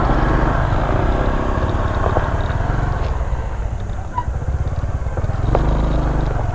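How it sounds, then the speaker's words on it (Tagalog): Motorcycle engines idle and rev in a crowded parking area near Daranak Falls in Tanay, Rizal, a steady close-up mechanical putter with clattering, no talk over it. "daming motor, oh."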